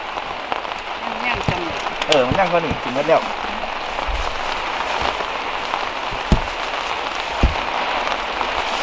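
Steady rain patters on surfaces around a roadside grilled-chicken vendor, a constant hiss with occasional louder drops while people talk nearby.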